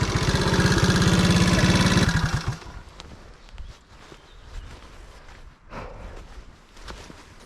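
A Honda Cub C65 motorcycle's small engine idles loudly and close with a steady rapid putter, then cuts out after about two seconds, leaving quiet background with scattered faint knocks.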